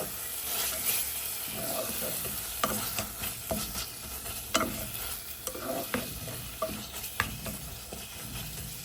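Spice masala for a winter radish-greens and bele fish curry being sautéed in a pan, with steady sizzling and repeated scraping stirs of a spatula, close and fairly loud, no talking.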